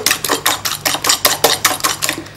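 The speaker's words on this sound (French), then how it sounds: "Et là, j'ajoute de la crème. Il faut mélanger tout de suite un peu" A utensil scrapes and clinks against a pan in a quick, even rhythm about five times a second while cream is stirred into melted sugar, close and bright, with no voices.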